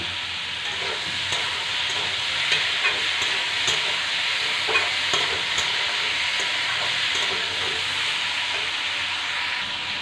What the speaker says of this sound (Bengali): লাউ ভেজে নেওয়ার পর সামান্য একটু চিনি দিয়ে নেব।